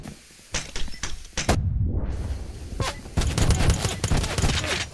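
Video game shotgun fire: several sharp, loud gunshot blasts in quick succession, one with a heavy booming tail, over a continuous background of game noise.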